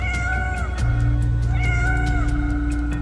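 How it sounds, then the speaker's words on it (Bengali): A cat meows in a garden at night, two drawn-out meows that rise and fall, heard close over a low background drone. "বাগান থেকে শোনা যাচ্ছে একটা বিড়ালের ম্যাও ম্যাও ডাক"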